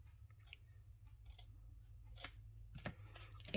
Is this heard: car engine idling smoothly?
no